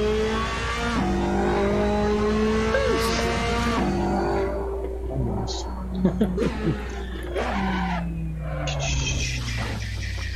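A race car in the Assetto Corsa online racing game revs and accelerates through gear changes, with engine tones rising and falling over a steady low rumble while someone talks over it.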